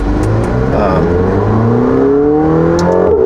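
A McLaren 720S Spider engine revs loud and close, its pitch climbing steadily through the rev range in one continuous rising wail with a rough, throaty edge.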